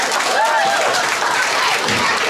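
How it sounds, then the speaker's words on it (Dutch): Audience applause and cheering for the performers at a Dutch show, a dense, steady wash of clapping with crowd voices mixed in throughout. "Mag ik als eerste een heel groot applaus voor al deze toppertjes."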